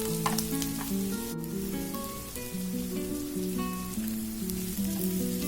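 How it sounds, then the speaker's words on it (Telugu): Onions sizzle steadily in a pan for onion chutney, a dense continuous frying hiss with faint scraping, close and even throughout with no voices. "మనకి ఆనియన్స్ వేగిపోయాయి"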